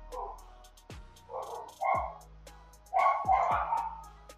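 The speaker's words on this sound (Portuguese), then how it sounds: "Desculpa pelo latido" A dog barks in several sharp, separate bursts at moderate distance indoors, with brief quiet gaps between them and faint background hum.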